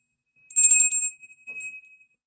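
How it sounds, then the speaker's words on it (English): A small hand bell rings with a bright tinkling burst, then a softer second shake, clear and alone against near silence. "I'll do a little bell ringing too, just to get away any bad juju."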